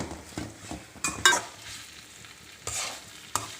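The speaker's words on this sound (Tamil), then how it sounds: "ஃப்ரை பண்ணி வச்சுருக்க காலிஃப்ளவரை அதில் தட்டிடுவோம் தட்டி கிளறி விடணும்" Fried cauliflower for gobi manchurian is stirred and tossed in a pan, giving scraping spoon strokes over a soft, steady sizzle, close and fairly quiet with no voice.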